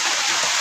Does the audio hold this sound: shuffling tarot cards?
no